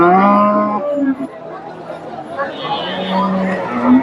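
A large pregnant dairy cow at a cattle market in Bogura gives a loud, drawn-out moo up close, then a shorter low call near the end, with crowd chatter and voices around it.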